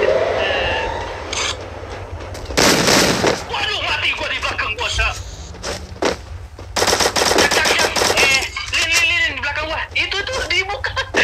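Enemy gunfire in a shooter video game: loud automatic bursts and single shots crackle repeatedly, mixed with explosions and other game sounds, while a player talks throughout.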